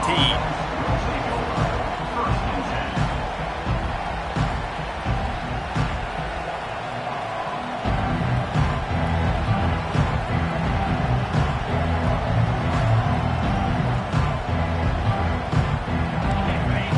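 A stadium crowd roars and cheers at a college football game, with a broad, loud wash of noise that swells partway through while commentators talk over it.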